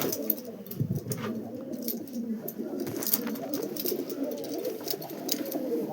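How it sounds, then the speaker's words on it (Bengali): Pigeons at a loft coo repeatedly, soft low rolling calls overlapping one another at close range, with occasional wing flutters and light rustling throughout. "এই একটা পায়রা দেখুন, শখ করুন খালি, দুর্দান্ত পায়রা।"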